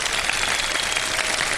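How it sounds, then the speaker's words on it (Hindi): Continuous dense applause from a studio audience at a Ramadan game show for the competing teams, loud and steady throughout. "तमाम टीमों के लिए बहुत सारी तालियां"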